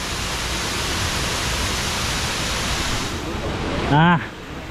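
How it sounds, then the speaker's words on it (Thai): Bang Pae waterfall roars as a steady, close wash of falling water, constant and full throughout, with a brief voice breaking in near the end. "เดี๋ยวเราจะไปให้ใกล้น้ำตกที่สุดครับ"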